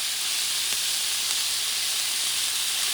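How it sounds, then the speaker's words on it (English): Garlic sizzling in a pan of paella ingredients, a continuous close, even frying hiss lasting throughout without pauses or speech. "Add my garlic"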